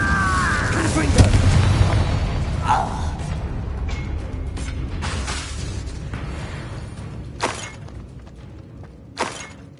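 A Confringo blasting curse exploding in Hogwarts Legacy, a loud shattering blast with a crashing burst followed by debris and scattered sharp impacts, amid game effects and voices.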